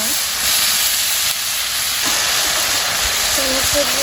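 Water poured onto sautéed vegetables in a village kitchen hisses and steams in a loud, steady rush that runs throughout, with faint background voices and a few brief tonal sounds near the end.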